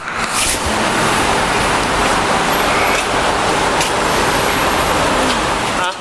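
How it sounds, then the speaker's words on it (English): Genie truck passing on a road outside, a loud continuous roar of traffic and rushing road noise with wind, steady for several seconds. "That's a Genie. A truck."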